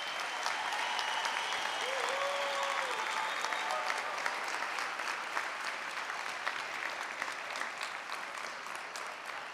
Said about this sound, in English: Please give your parents, loved ones, and the academic staff a round of applause for shepherding your journey.